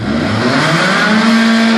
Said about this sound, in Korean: 악셀도 한번 강하게 넣어보세요